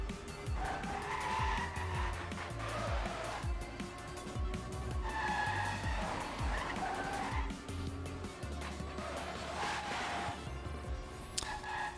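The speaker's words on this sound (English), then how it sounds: "there goes Poker into the wall" Race cars in a competitive racing video game roar steadily and close, with repeated tire squeals and skids layered over the constant engine drone throughout.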